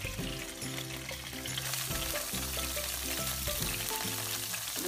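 Garlic sizzles in a hot pan as it sautés for pork bistek, a steady broadband frying hiss running throughout at close range, with background music tones layered over it and no speech.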